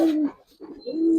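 Bagha Giribaz pigeons give two soft, close coos separated by a brief gap.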